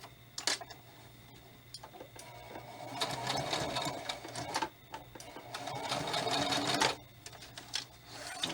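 A sewing machine stitches fabric for a handmade spirit doll in bursts of rapid mechanical whirring, with short pauses between runs, heard up close.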